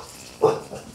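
A dog, excited by someone's moving hands, lets out a single short bark close to the microphone over a quiet indoor background.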